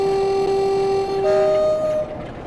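A Class 47 diesel locomotive in Train Sim World sounds a long, steady two-tone horn as it begins to move, loud and close, then fades off.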